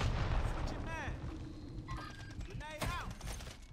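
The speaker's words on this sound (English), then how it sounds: "That's that new, rocket launcher or some shit, ain't it?" A rocket launcher fires in a video game: a heavy low boom opens, then whooshing blasts and sweeping, whistling synthetic tones follow over steady battle rumble, fairly distant and muffled.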